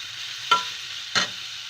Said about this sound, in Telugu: ఉడికించిన ప్రౌట్స్ వేసుకొని బాగా కలుపుకుందాము